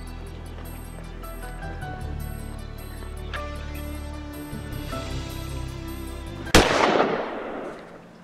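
One sudden, loud gunshot bursts out near the end over a droning background, followed by a short fading tail.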